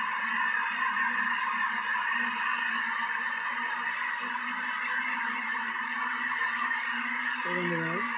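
Race cars in a racing video game mod give off a continuous droning engine tone, steady and fairly loud, with a short wavering horn-like note near the end.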